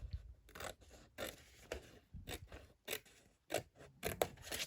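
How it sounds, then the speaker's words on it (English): Scissors trim a sheet of 12x12 paper, making a quick series of close, crisp snips and slicing strokes in an irregular rhythm with short pauses between cuts. "I'm just going to just give it a little trim"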